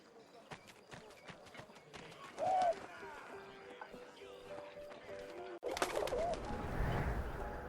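Pigeon coos in the World War game 11-11 Memories Retold, short soft cooing calls over background game ambience and scattered clicks, with a louder burst of noise near the end.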